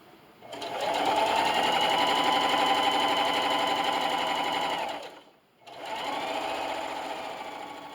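A sewing machine stitches a fabric microwavable popcorn bag in a fast, loud, steady mechanical run of about four and a half seconds, pauses briefly, then resumes stitching.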